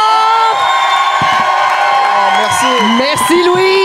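Audience at a live comedy show cheering and whooping loudly, a dense crowd roar with high shouts and yells rising over it, alongside sustained voices throughout.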